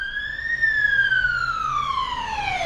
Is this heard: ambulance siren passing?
yes